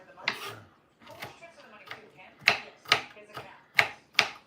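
A knife chops a bell pepper on a cutting board in a kitchen, giving a series of sharp, close thuds at an uneven pace, some coming in quick pairs, with no talk.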